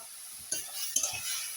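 Spices with salt and turmeric being stirred and fried for a chicken curry, a faint sizzle with a couple of soft clinks and scrapes of a utensil against the pan.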